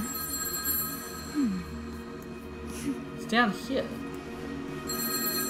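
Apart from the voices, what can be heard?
telephone ringing in video game Roki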